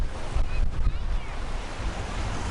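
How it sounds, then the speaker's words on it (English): Strong wind buffets the microphone on a sunny afternoon beach walk at Punsand Bay, Cape York, over a steady wash of surf breaking nearby, continuous and moderately loud. "Just a shame it's so windy."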